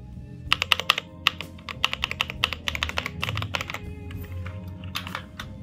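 Steady typing on a compact 75% Rexus Heroic RX-KX3 mechanical keyboard, a quick run of crisp clacky keystrokes up close with uneven rhythm and brief pauses, no voices.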